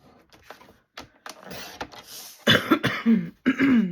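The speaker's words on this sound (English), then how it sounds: "Excuse me for coughing." A person coughs several times in short bursts, close by, with some throat clearing and quiet rustling between the coughs.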